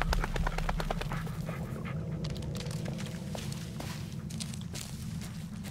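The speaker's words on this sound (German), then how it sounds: "Da trinkt der Hund einfach erst." A dog in the video game Blair Witch laps water with rapid wet splashy clicks, close and fairly loud over a low ambient hum, no talking.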